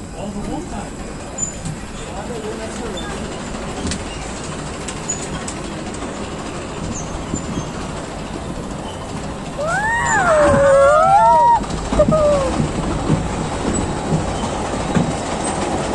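Amusement park ride running at Bahria Adventure Park in Karachi, a steady train-like rumble and clatter with squealing wheels rising louder midway, with excited voices and screams over it.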